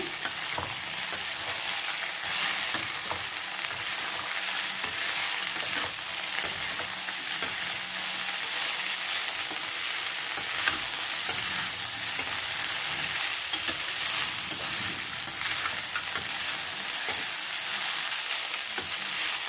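Flattened rice upma frying in a pan while being stirred, with continuous close sizzling and frequent scraping, clattering stirs for the whole stretch.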